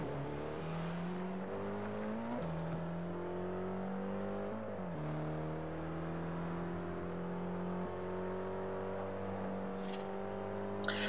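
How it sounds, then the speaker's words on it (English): Car engine in Forza Horizon, a racing video game, droning steadily at cruising speed with gear-shift pitch drops and rising revs, continuous and close throughout. "So driving along now."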